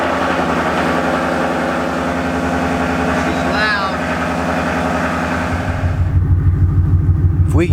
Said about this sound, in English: cold start here for you all with the window down